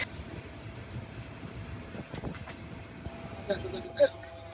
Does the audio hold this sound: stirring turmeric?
no